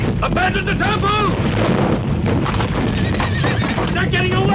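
Horses neigh and whinny loudly several times over clopping hooves and rumbling commotion, with shouting voices mixed into the chaotic scene.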